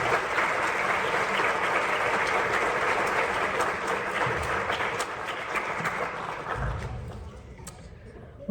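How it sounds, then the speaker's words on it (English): An audience at a service dog graduation ceremony gives sustained applause, dense steady clapping from a full room that carries on for several seconds before tapering off, with a few voices mixed in near the end. "We have another round of applause for our graduates."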